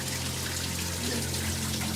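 Water leaking into a flooded basement, a steady trickling and running-water hiss with a low hum underneath, continuous and fairly quiet, no voices.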